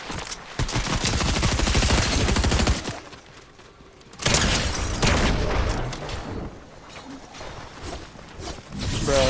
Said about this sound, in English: Somebody shot behind us.